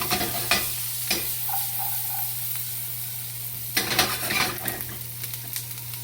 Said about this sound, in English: still stirring my risotto